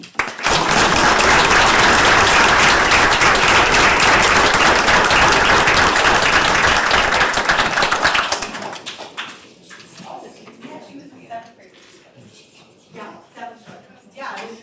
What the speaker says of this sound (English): you should definitely give her a big round of applause